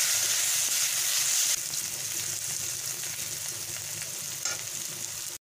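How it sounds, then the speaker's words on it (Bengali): Gobindobhog rice frying in hot oil in a wok gives a steady, close crackling sizzle that eases slightly partway through and cuts off abruptly at the end, with no talk. "চালটাকে ভালো করে আমি সুন্দর করে ভেজে নিয়েছি"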